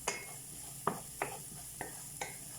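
Chicken sautéing in oil with onions and garlic, a soft constant sizzle broken by several spatula-on-pan clinks and scrapes at a slow irregular rhythm, close and quiet.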